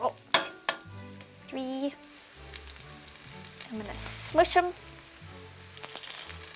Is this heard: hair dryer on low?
no